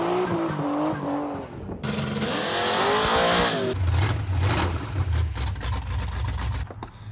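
Chevrolet C10 pickup truck engine running and revving, rising and falling engine tone with a rough, loud mechanical roar close by, no talking.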